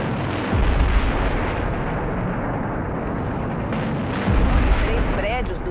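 Bombing of Baghdad in the 2003 Iraq war: two heavy, deep explosion booms about four seconds apart, rumbling over a steady noisy background, with faint speech.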